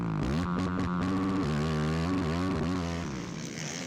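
An ATV engine at a motocross national championship race, including a Yamaha, revs hard and shifts, its exhaust buzzing loud and close with rising and falling pitch throughout.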